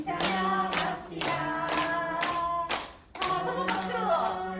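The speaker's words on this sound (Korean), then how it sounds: "한번 박수." Elderly people at a senior college worship service clap their hands together in rhythmic bursts, groups of quick sharp claps separated by short pauses, close and lively, with voices singing along.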